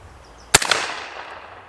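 A single sharp gunshot from a 12.5-inch 8.6 Blackout AR-10 rifle firing subsonic ammunition cracks once, loud and close, then rings out in a short decaying tail.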